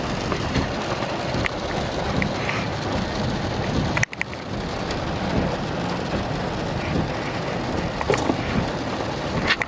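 Steady, dense rain falls outdoors, a continuous close hiss of drops striking surfaces that runs the whole time with a brief sharp break partway through, with no voices.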